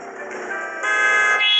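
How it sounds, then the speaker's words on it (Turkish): A steady car horn in a driving video game blares continuously, its tone rising to a louder, brighter pitch partway through, over a faint background hum. "Arkadaşlar yine bize korna çalıyorlar."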